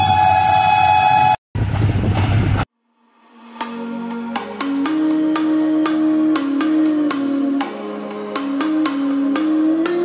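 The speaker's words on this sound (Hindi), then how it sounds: "6025 ट्रेन के लीड पर है।" Green Line Express passenger train led by locomotive 6025 passing Raiwind Junction on a hot day, a loud rushing roll with rhythmic wheel clatter building after a brief horn and sudden cutoff.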